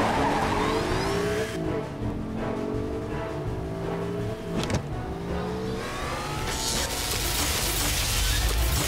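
Car speeding off with tires squealing, engine revving and surging through gear changes, loud skidding screeches rising and falling with a burst of roaring acceleration at the end; no talk.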